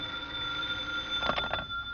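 An old-style telephone bell rings in a radio drama, one short burst of rapid ringing after a quiet hum with faint background tones.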